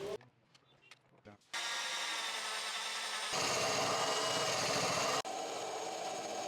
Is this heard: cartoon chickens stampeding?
no